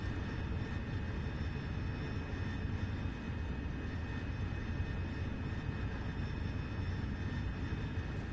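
An AV-8B Harrier jet in flight in DCS gives a steady, dense engine roar with a faint high whine, constant and unbroken throughout.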